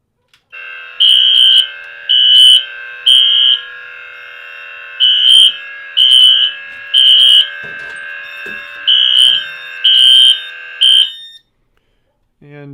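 A heat detector set off during a fire alarm system test sounds a loud, steady electronic alarm tone overlaid with about ten regular pulsing bursts, running for roughly eleven seconds before cutting off abruptly.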